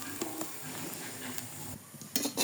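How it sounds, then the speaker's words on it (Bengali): Aloo paratha frying in a pan, a faint steady sizzle with a few scraping and clinking touches of a utensil against the pan near the end, with no talking. "বাকি পরোটাগুলো ভেজে নিচ্ছি।"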